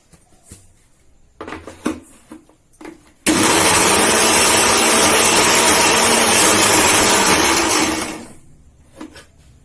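A mixer grinder blending mint and coriander chutney roars loudly for about five seconds, starting abruptly and winding down, with brief clinks and handling noises before and after.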